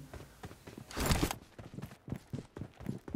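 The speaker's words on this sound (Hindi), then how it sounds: "यहाँ से फुट साउंड आ रहे थे" Footsteps in PUBG Mobile on the Erangel map, a run of soft, quick steps at an even pace, faint and somewhat distant, with one brief louder burst of noise partway through.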